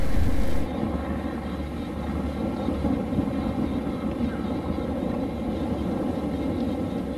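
Engines of a Fouga CM.170 jet trainer are heard steadily after landing, a broad roar and hum filling the cabin as the engines are shut down.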